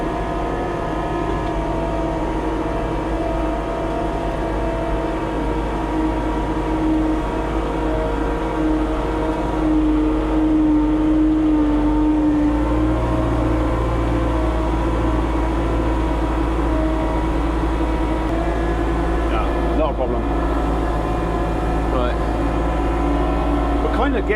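A Manitou telehandler of around 140 to 170 horsepower works a field during baling, its steady diesel engine drone continuous and close, with tonal harmonics and a low rumble that deepens partway through as the machine works backwards and forwards.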